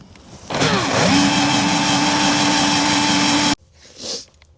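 A power tool whines up sharply and holds a loud, steady high-pitched grind for about three seconds as it bores through van sheet metal, then cuts off abruptly, leaving a brief softer rustle.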